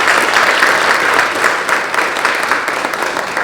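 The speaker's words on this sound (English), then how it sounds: "Can we have a round of applause for them?" A crowd at a fall grant celebration of the Miami County Foundation, held at the Arbogast Performing Arts venue, claps in a full, even round of applause that fills the hall throughout.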